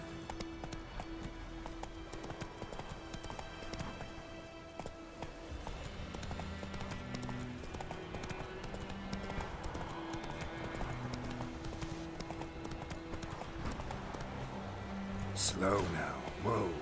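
Roach, Geralt's horse in The Witcher 3: Wild Hunt Complete Edition, gallops steadily with a continuous clip-clop of hooves over a bed of game music, ending in a brief louder burst.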